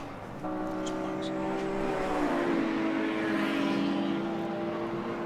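A Ferrari Breadvan and the Cottingham Jaguar E-Type race car lap Goodwood in the Moss Trophy, their engines droning and rising in pitch at a distance, with a voice speaking over them.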